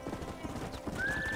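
Hooves clip-clop rhythmically at a brisk pace in the video game Red Dead Redemption, followed by a horse's whinny rising over the steps.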